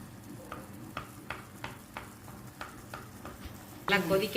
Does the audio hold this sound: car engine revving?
no